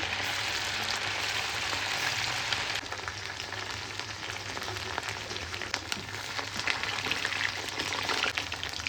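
Chicken pakoda pieces deep frying in hot oil, a steady close crackling sizzle with scattered pops that continues without a break throughout, with no talking.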